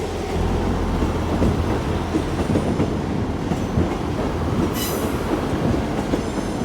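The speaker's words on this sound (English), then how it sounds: "South Western Railway service coming in, 159019, in front of London Waterloo." South Western Railway unit 159019 arriving at Exeter St Davids station: a steady, rumbling roll of wheels with clicking over the rail joints and a brief high squeal partway through, close and continuous, with no voices.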